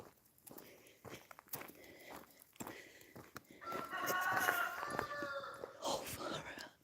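Roosters crow in the middle distance in a mountain village, two overlapping calls rising over footsteps and quiet murmured talk, with soft clucking around them.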